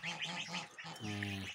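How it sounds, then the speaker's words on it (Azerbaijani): Goslings and chicks let out into a yard give a quick run of close, nasal calls and peeps, rhythmic short cries followed by a longer honking note, with no talk. "Qaz ballarını, cücələri eşiyə çıxartmışam."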